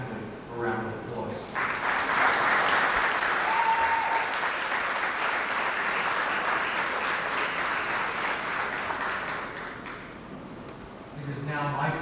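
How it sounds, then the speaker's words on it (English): A graduation audience breaks into sustained, full-room applause for parents and families, loud and dense for about nine seconds before tapering off, with a speaker's voice briefly at the start and end. "it's appropriate that the graduates give their parents and families a round of applause"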